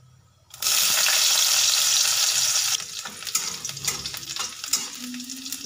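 Garlic, nigella seeds and dried chillies sizzle loudly in hot oil, a sharp burst of frying that settles into an uneven crackle with scattered pops and scraping as they are stirred.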